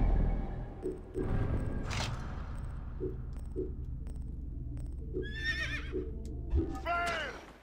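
A horse whinnies twice in the video game Assassin's Creed Origins, high and shrill, over a steady low rumble and faint hoof clops, with brief voices beneath.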